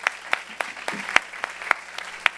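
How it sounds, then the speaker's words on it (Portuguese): Scattered handclaps ring out at an irregular pace from a small, quiet audience at a parliamentary session on autism, each clap sharp and separate rather than building into steady applause. "então palmas aí"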